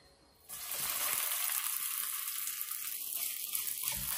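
Seaweed and peanut cake mixture hits hot oil in a pan over low heat, bursting into a sudden sizzle that settles into a steady, close crackling hiss.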